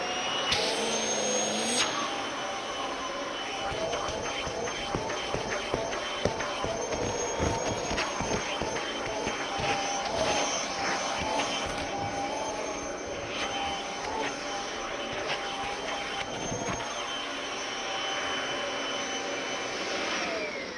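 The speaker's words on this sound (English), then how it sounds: "I'm just going to vacuum a cushion or two for you." A small, powerful vacuum cleaner runs steadily up close as it works over a cushion, with a constant whining drone and scattered rustling and bumping as the nozzle moves across the fabric.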